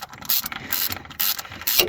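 A ratchet wrench clicks in quick bursts while a bolt is taken out of the mechanical fuel pump on a small- or big-block Chevy engine, with close, rapid metallic ticking in several separate runs.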